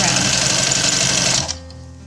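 A sewing machine set to a longer stitch runs steadily through several layers of fabric and fur, a loud continuous whirring drone that stops abruptly near the end, leaving a faint low hum.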